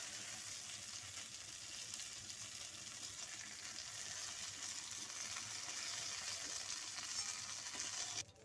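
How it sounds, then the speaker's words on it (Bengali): Eggplant (brinjal) pieces frying in hot oil in a wok, a steady, dense sizzle that holds evenly throughout with a faint stirring scrape near the end. "এবার এই তেলের মধ্যেই আমি বেগুনগুলো ভেজে নেব।"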